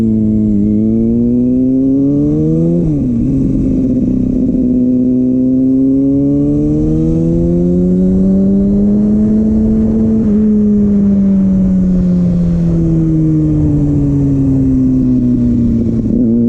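A Kawasaki ZX6R motorcycle engine pulls loud and close in first gear, its pitch climbing, dipping briefly at a shift or throttle change, then rising again and falling off toward the end.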